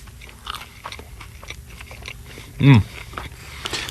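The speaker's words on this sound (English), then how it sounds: "Oh, listen to that crunch." A crunchy bagel is bitten once in a radio studio, giving a single loud, close crunch about two-thirds of the way through over low background noise.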